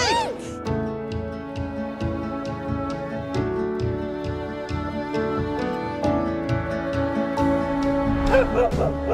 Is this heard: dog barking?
yes